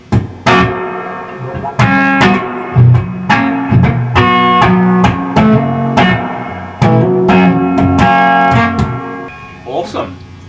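Electric guitar played through a Fender Twin Reverb amplifier with its spring reverb turned up full, loud strummed chords ringing out with a lingering wash of reverb between strikes and brief voices near the end.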